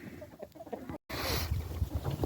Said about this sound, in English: Let the chickens work their way out, and we'll get the eggs.